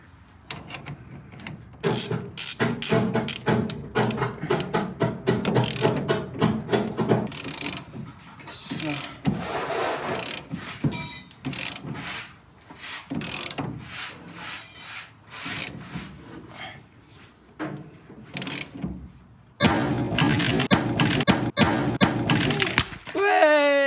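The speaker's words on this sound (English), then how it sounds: "Popping taper joints never gets boring." A lobster claw tool works on a decades-old Porsche front suspension taper joint, giving close, loud bursts of metallic clicking, scraping and knocking in uneven flurries, with brief quiet gaps and a voice speaking at times.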